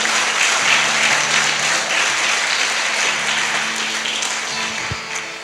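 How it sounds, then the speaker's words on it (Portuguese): A church congregation at a Portuguese-language service applauds steadily, dense crowd clapping that holds for several seconds then begins to thin toward the end, with a faint voice at the start. "Aplauda o nome do Senhor, dando glória a Deus"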